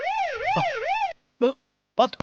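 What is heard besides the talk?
ambulance siren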